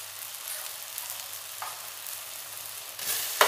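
Turmeric, garam masala and Kashmiri chilli powder sauté in a pan for a tomato-onion kurma, giving a soft, steady sizzle, with a sharper burst of frying near the end.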